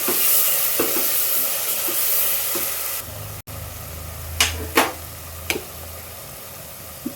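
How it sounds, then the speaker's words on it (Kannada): Masala and smashed tomatoes frying in a pan, a steady sizzle with occasional stirring scrapes and clinks, a short break partway through, then quieter frying with a few louder spoon knocks. "ಈಗ ನಾವು ಮಸಾಲೆ ಹಾಕ್ಕೊಂಡು ಫ್ರೈ ಮಾಡ್ಕೊಳ್ಳೋಣ."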